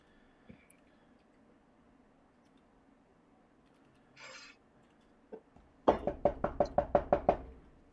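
A door is knocked on in a quick run of about eight sharp raps, preceded by a few faint scattered thuds and a brief rustle, in an otherwise quiet room.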